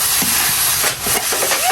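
Fish pieces for chorchori fry in a hot pan, a loud continuous sizzling hiss with brief swells and dips over a short stretch.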